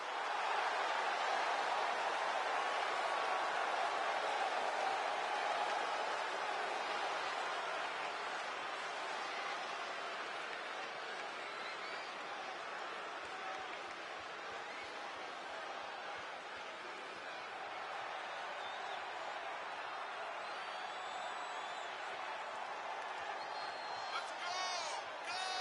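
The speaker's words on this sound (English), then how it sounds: "And just listen to that crowd." A wrestling arena crowd in WWE 2K24 roars as a steady, broad wash of noise, fairly faint, beneath an announcer's commentary.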